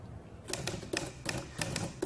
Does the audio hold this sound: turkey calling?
no